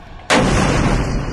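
A sudden loud explosion along the Israel-Lebanon border hits after a brief quiet lull, then a long roaring rumble sustains at high level without any voices.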